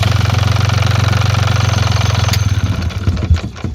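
A steady, close, loud engine idle, after an emergency start made by bridging a failed key switch with a screwdriver, chugs evenly before it wavers and stumbles toward the end.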